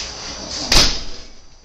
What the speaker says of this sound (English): The damn wind catches the doors.